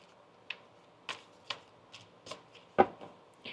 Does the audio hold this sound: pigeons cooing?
no